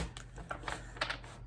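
Tarot cards are shuffled up close in a quiet room at night, giving a string of soft, quick papery flicks and riffles in uneven bursts, with no talking.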